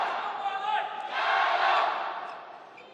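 Crowd of Chinese supporters cheering and chanting in the stands at a badminton women's doubles final, a broad, swelling roar of many voices that rises in the middle and then eases off.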